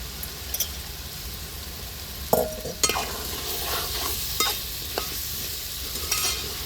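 Masala with poppy seeds, coriander seeds and mushrooms frying in a pan for mushroom curry, with a steady sizzle broken by several sharp scrapes and clinks of stirring and no voices.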